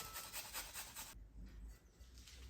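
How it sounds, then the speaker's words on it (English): Garlic rubbed against a grater: a quick, soft, rhythmic rasping that stops abruptly partway through, leaving quieter scraping. "Now let's grate it."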